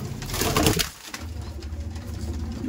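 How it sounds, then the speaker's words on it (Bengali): An Abluk pigeon brought from Andhra coos close by with several throaty, rolling phrases, loudest at the start and then a softer continuous murmur, with no talk over it. "এটা অন্ধ্র থেকে আনা পায়রা"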